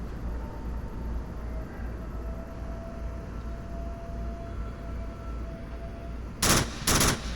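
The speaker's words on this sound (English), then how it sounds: "some shots coming out from the south" Two short, sharp bursts of gunfire from the VR shooter Onward crack out at the very end, after several seconds of quiet ambient hum.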